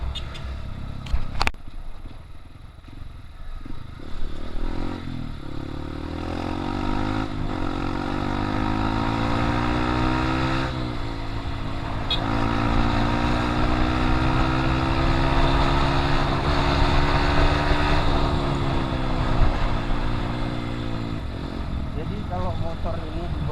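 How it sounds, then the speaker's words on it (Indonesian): A Honda CRF150 motorcycle with a loud exhaust rumbles and revs, its engine pitch rising and falling through acceleration over a continuous throaty drone, while someone talks over it throughout. "suara knalpotnya sangat besar gitu ya"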